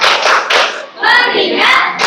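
A school class does the rhythmic 'tepuk fokus' clap, loud, close bursts of hands clapping in a set pattern while the children chant together.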